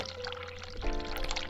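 Water pours into a sink in the video game The Cat Lady, a steady splashing rush mixed with an ambient tonal drone from the game's soundtrack.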